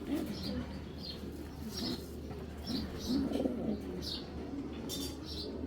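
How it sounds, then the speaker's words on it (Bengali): An Iranian racing pigeon pair coos softly and steadily, low and close, with faint chirps and some background noise. "ইরানের কবুতর মাশাল্লাহ"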